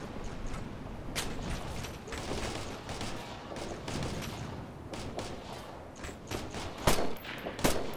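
Sustained gunfire in the video game Operation Flashpoint: Red River, dense overlapping bursts of rifle and machine-gun shots in a rolling fusillade with a couple of louder, sharper cracks near the end.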